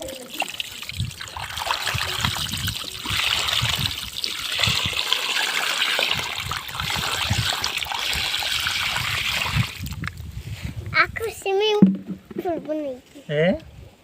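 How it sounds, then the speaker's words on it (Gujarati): Water pours and trickles steadily to wash a toy tractor, a soft continuous splash that fades near the end as people talk with rising voices. "આમાં પાણી ભરવા લો અને આમાં ટ્રેક્ટરને નવરાઈ દઈ."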